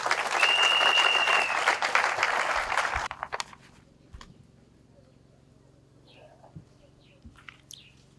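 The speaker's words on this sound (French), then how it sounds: "Sous vos applaudissements, s'il vous plaît." A ceremony audience for a gas exploitation event at Lake Kivu gives dense, loud applause for the welcome address, lasting about three seconds before stopping abruptly into near-silence with faint room sounds.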